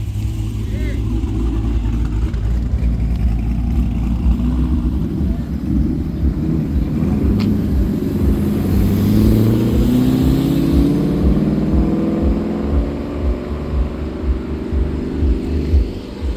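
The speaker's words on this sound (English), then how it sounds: "Rev it." Car with an LS V8 engine revving at a car show, a loud continuous low rumble that swells and climbs in pitch around the middle, with people talking over it.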